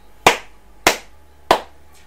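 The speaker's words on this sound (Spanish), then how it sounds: "estoy aplaudiendo a EA Sports" Three slow, evenly spaced hand claps land crisply close by, each sharp and short with a dull, damped edge from a wristband worn on the wrist, with no voices around them.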